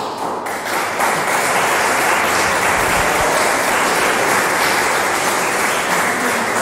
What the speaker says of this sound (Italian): Un applauso decisamente spontaneo e meritato.